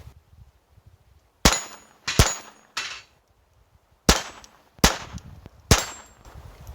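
A Glock 44 fires .22 LR rounds, six sharp cracks in two groups of three with short ringing tails, fairly loud and close, separated by quiet gaps.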